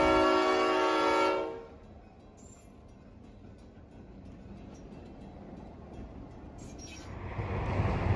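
Baldwin 0-6-0 steam locomotive No. 58, built in 1907, pulls into a station on the Wilmington & Western Railroad. A loud, sustained whistle blast opens, then gives way to a low rolling rumble that grows as the train draws near.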